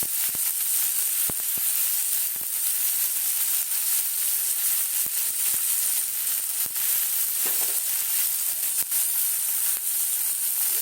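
Thinly sliced onion and nigella seeds frying in a little oil in a kadai, a loud continuous close sizzle broken by occasional sharp clicks of stirring.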